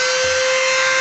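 Grinder flattening a surface before gluing, a continuous high-pitched whine with steady abrasive hiss, close and loud throughout with no pauses.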